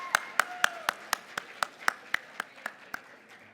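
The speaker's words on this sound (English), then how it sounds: "let's have another round of applause for all of our competitors" Claps at a high school Poetry Out Loud competition, heard as a steady, evenly spaced run of sharp, fairly close hand claps at about four per second, fading slightly toward the end rather than a dense crowd roar.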